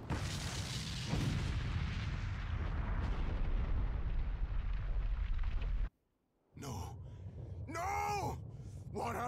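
Heavy explosion in the fantasy RPG Eiyuden Chronicle: Hundred Heroes, a loud sustained blast and rumbling roar that cuts off abruptly, followed after a brief silence by short sharp impacts and swishing effects.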